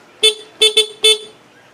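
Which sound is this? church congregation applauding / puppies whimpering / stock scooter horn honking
stock scooter horn honking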